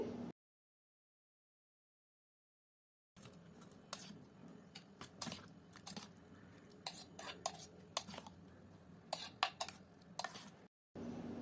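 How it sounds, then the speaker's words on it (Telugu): Cooked rice is stirred into curd for curd rice, a spoon scraping and clinking against a steel bowl in irregular close bursts after a stretch of silence. "ఇప్పుడు అన్నం కూడా వేసి బాగా కలపండి"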